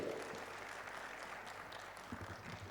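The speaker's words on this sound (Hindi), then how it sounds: "जोरदार तालियां प्रियंका के लिए बजाई जाए" A kavi sammelan audience applauds the young poet Priyanka: a dense, steady wash of clapping that holds at a fairly soft level for nearly three seconds without talk.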